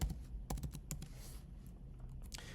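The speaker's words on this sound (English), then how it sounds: "I'm just typing over my code." Someone types code on a computer keyboard, quick close-up clusters of key clicks with brief pauses, heard alone without speech.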